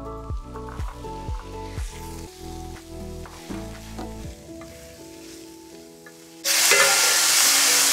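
Skinless chorizo sausage drops into hot oil. After several seconds of background music, a sudden loud, steady sizzle bursts up and continues to the end.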